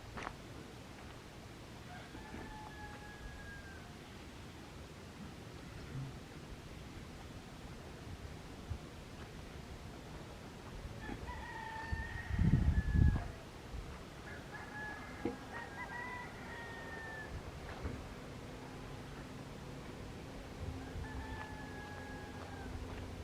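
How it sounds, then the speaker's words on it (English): Chickens in the Caribbean on Tortola, British Virgin Islands, cluck and crow at a distance in a few faint, scattered calls over steady outdoor noise. One low thump is heard near the middle. "Oh, we got ourselves some chickens."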